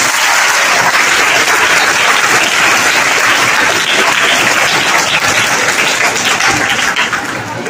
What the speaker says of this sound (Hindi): उनके लिए भी ये जोरदार तालियां।